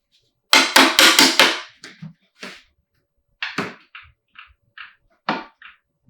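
A hammer whacks a part of a BMW M50B25 engine during a teardown, with a quick burst of sharp metallic blows followed by several lighter, scattered knocks and taps, close and loud.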